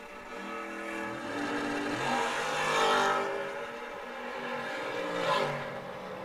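Drag race cars, among them a first gen Camaro on a 671, launch at a memorial drag meet, their engines roaring loud and close, swelling and easing over several seconds in a dense, unbroken mechanical blare.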